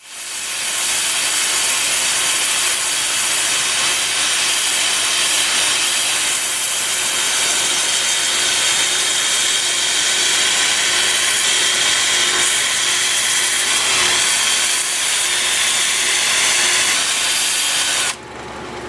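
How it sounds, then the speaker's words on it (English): Wood being sanded with 120-grit paper against a lathe spinning in reverse at 400 RPM, a loud, steady abrasive hiss over the motor's hum that holds nearly unbroken before cutting off near the end. "I've got the lathe spinning in reverse at 400 RPM. I'm starting at 120 grit."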